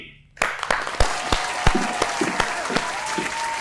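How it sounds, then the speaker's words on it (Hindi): A studio audience on a Punjabi television talk show breaks into loud applause after a brief quiet start, with sharp individual claps standing out over a dense, sustained clatter. "तो आपकी भरपूर तालियों में one and only from our Calgary Sabeen Wasti ji."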